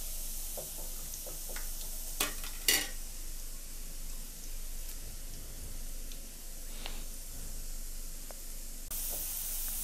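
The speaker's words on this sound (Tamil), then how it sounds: "நல்லா கலர் மாறுற வரைக்கும் பொரிக்கலாம்" Mutton meatballs fry in hot oil with a steady sizzling hiss, broken by occasional soft clinks and stirring sounds, close by.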